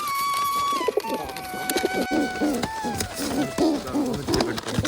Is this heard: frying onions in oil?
no